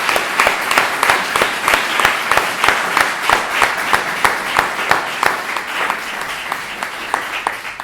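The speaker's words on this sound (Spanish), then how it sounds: "yo creo que se ganó un aplauso de todos nosotros" Audience applause at a talk with Faustino Sánchez García, Rubén Vega and Oscar R. Cavielles, with distinct, fairly loud claps in a quick, lively rhythm that carries on steadily and thins a little toward the end.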